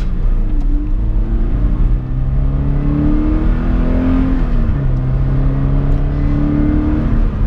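A 2014 Scion FR-S sports car pulls away and accelerates, its engine note climbing through gears in rising sweeps, loud and close with no talking.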